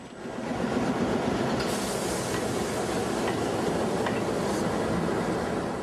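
A diesel locomotive from the DLW works rolls along the rails with a steady, loud broadband rumble, wheel noise and faint squeals running throughout without pause.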